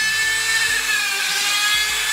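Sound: Dremel sanding drum on foam

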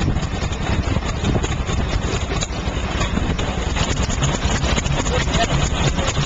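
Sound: Ruston PB engine running

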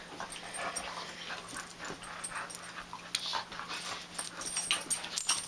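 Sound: huskies playing and fighting

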